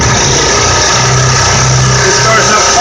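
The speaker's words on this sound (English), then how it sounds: "It starts up fine. The generator powers the air compressor." An air compressor powered by the built-in generator in the fibreglass utility bed of a 2001 Ford F350 Super Duty starts and runs, a loud close mechanical drone with steady low hum.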